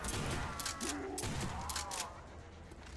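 Rapid gunfire rattles in a Call of Duty zombies match on the Verruckt map, a dense burst of loud shots and booming impacts over about two seconds before fading into quieter game ambience.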